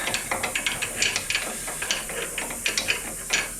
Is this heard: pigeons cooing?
no